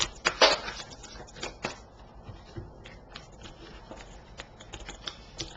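Tarot cards shuffled by hand during a reading, a crisp riffling burst at the start followed by scattered soft taps and slides of the deck, close and quiet with no talking.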